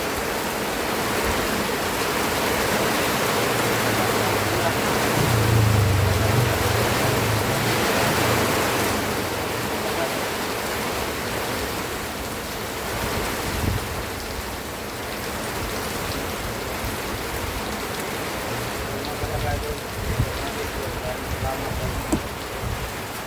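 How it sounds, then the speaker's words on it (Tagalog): Heavy rain pours down steadily in a dense, hissing wash, with a low rumble rising briefly early on and faint voices underneath. "Sobrang lakas talaga ng ulan mga idol, no?"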